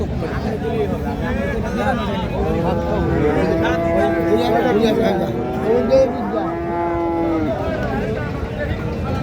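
A dairy cow at a cattle market gives several drawn-out moos, loud and close, over a background of crowd babble, and people talk nearby.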